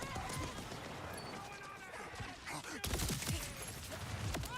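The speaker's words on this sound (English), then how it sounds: "Yeah, these fireworks ain't bad." In the video game Borderlands 4, firework-like missiles burst in a rapid, crackling volley, with the explosions getting denser and louder toward the end over a busy game background.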